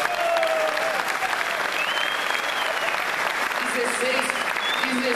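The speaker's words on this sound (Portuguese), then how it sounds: "Uma salva de palmas aí." Audience at a 2015 DMC breakdance event applauding steadily throughout, a dense, even wash of clapping with a few faint whistles or shouts rising above it.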